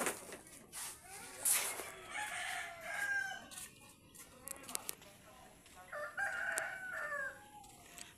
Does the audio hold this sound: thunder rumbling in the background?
no